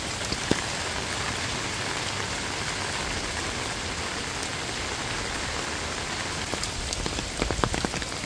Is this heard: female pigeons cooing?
no